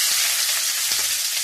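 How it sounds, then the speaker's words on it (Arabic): Two large chopped onions fry in hot fat in a pan, giving a steady, close, even sizzle with light crackles and no talk. "حطيت ماده دهنيه في طاسه تسخن، وهنزل ببصلتين كبار مفرومين"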